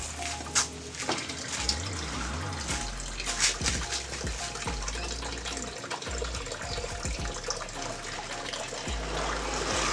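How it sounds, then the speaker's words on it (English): Water pours through the top hose into a Holden Mighty AU ute radiator during a coolant flush, a continuous splashing trickle with gurgles and small knocks, close and fairly loud. "We're also going to fill up the water from the other side of the radiator, that top hose"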